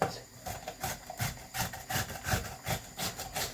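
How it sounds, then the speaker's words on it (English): A cucumber rubbed against a grater while making a salad: rhythmic, rasping strokes, about a dozen in quick succession, close and fairly soft, with no talking. "So we're going to grate the cucumber."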